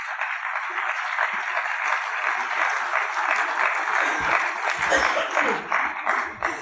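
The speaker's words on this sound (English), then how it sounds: "Keep clapping until she takes her seat." Conference audience applauds steadily as a woman professor walks to her seat at a Nigerian education panel, the clapping continuous and fairly close, with a few voices murmuring beneath it toward the end.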